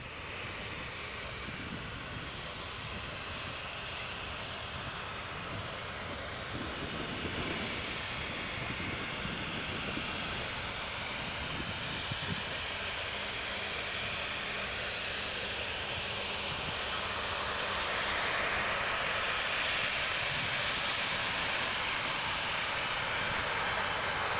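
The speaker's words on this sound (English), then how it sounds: "I don't know if that Air Horizon just put climb power on, but what a noise that just made" An Air Horizon airliner climbing out at climb power from Newcastle Airport gives a loud, roaring, tornado-like broadband rumble. It stays steady and sustained for over twenty seconds with no talk.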